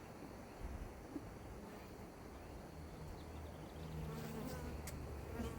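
Honey bees buzz around an open hive during a spring colony split, a dense, steady droning hum that stays close and continuous, with slight wind noise and no talking.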